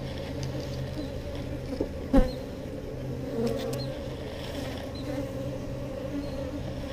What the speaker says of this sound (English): we just have to wait for the worker bees now